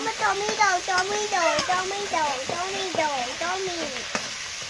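Ginger paste and spices sizzle and fry in a pan for a Bengali fish and potato curry, with steady spatula stirring and a voice chattering over the sizzle.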